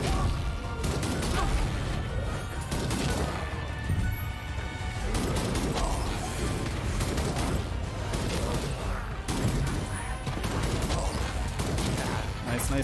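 Shotgun fire in the wizard first-person shooter Ziggurat 2, sharp repeated blasts in an uneven rhythm, mixed with crashing impacts and game effects, with a player talking over parts of it.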